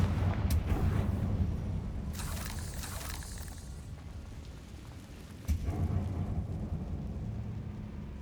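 Confringo fire spell cast in the video game Hogwarts Legacy, giving a rumbling blast with a sharp burst early on and another thump later, over continuous low game ambience.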